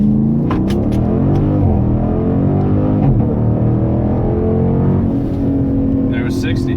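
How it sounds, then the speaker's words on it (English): A 2018 Dodge Durango SRT launches hard and accelerates toward 60, its engine a loud, steady, close-up roar with pitch climbing through gear shifts, and someone talking briefly over it. "So here we are with foot on the brake and give a little gas."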